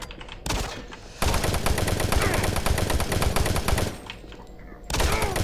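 Rapid bursts of pistol fire from the video game Doom 3 crackle loudly in quick succession, pausing briefly before another volley resumes.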